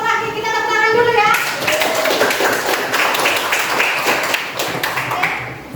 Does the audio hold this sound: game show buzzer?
no